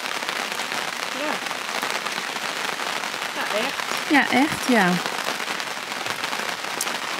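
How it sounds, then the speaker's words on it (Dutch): Steady rain drums on a camping awning at a campsite near Clervaux, Luxembourg, a dense continuous patter throughout, with voices talking beneath it. "Ja, de eerste keer regen deze vakantie."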